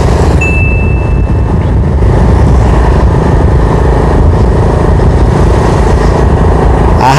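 A motorcycle engine runs with no battery fitted, chugging steadily and fairly loud at a rough idle from start to finish, with a brief high whine near the beginning.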